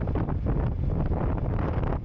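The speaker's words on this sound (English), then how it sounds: "It's absolutely ridiculously windy out here." Strong wind buffets the microphone beside a highway in Georgia, a loud continuous roaring rumble with gusty fluctuations and no voices.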